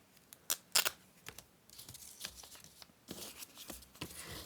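Scissors snip a fabric scrap down for a junk journal page, making a handful of quiet, close crisp cuts and soft rustling of the cloth in an otherwise hushed room, with no speech.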